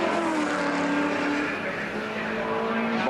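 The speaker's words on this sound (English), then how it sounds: "we've got him coming in now for a pit stop" A 1975 Holden Torana L34 race car pulling into the pits at Bathurst, its loud engine note sliding down and then back up, close by and continuous with no voices.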